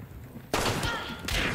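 Gunfire in Hunt: Showdown, a sudden loud burst of shots cutting in after a quiet moment, with a second burst near the end, heavy and close.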